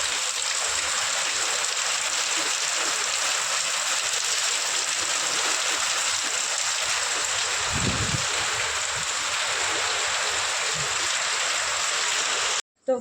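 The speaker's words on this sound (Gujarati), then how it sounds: "હજી બારે વરસાદ ફૂલ ચાલુ છે" Heavy summer rain pours steadily outside, a dense, even hiss that holds for the whole stretch, with a brief low thump partway through and an abrupt cut at the end.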